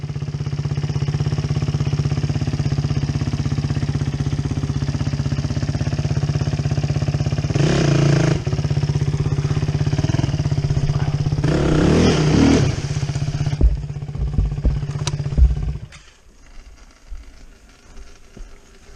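A Suzuki DRZ motorcycle stuck and buried in the ground holds a loud, steady engine drone with two sharper rev surges partway through, then sputters and cuts out near the end, leaving quiet outdoor background.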